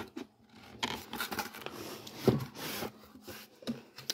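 Scissors snip and scrape through the tamper seal on a mini PC box, a few close, crisp cuts with rustling cardboard handling in between, no talking.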